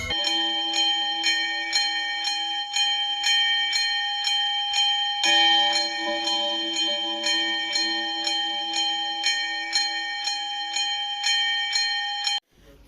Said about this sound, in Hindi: घंटी तो हमेशा ऐसी लगी थी ये बीच की।